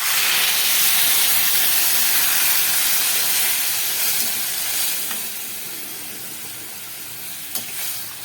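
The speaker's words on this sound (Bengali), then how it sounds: "উষ্ণ গরম জল দিয়ে দিলাম।" Warm water hits a simmering jackfruit curry in a hot pan, giving a loud, close rush of hissing steam and sizzle that slowly eases over several seconds, with a faint clink near the end and no talk.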